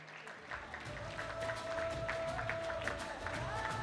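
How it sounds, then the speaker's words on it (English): A seated audience at an Indian community association's centenary celebration gives a round of applause for an award recipient, a moderate, continuous crowd clapping heard from some distance, faintly mixed with murmuring and a sustained musical tone. "Can we have a huge round of applause for Rupa ji?"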